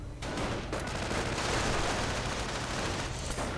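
Dense, continuous gunfire and explosions from a World War II strategy video game, a loud unbroken roar of overlapping shots and blasts with no talking.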